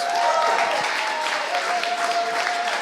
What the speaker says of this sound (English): So we can have a big round of applause for Bryan, please.